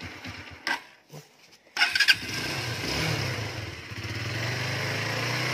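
A 150 cc motorcycle under repair is cranked with a few short starter bursts, then catches and settles into a steady, smooth idle close by.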